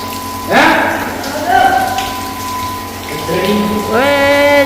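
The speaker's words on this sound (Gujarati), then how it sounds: "જો મોટર ચાલુ કરી છે" An electric water pump motor runs in a village setting, pushing water out under pressure as a steady rushing drone, with people talking over it.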